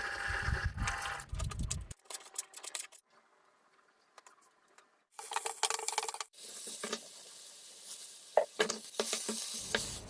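Choy sum being stir-fried with chicken in a pan, with bursts of sizzling and the scrape and clatter of stirring, alternating with quieter stretches.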